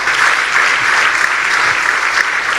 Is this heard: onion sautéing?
no